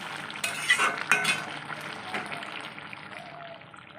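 Cooked rohu fish curry with whole hyacinth beans is tipped out of a kadai, giving soft sliding, stirring and scraping sounds with a few metallic clinks against the pan, moderately quiet and close.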